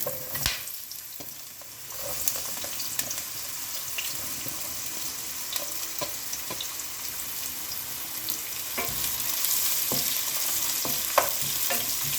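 Spices and large onions fry in hot oil and ghee with a steady broadband sizzle, stirred with scattered scrapes and clicks of a spoon, close and continuous, growing slightly louder toward the end.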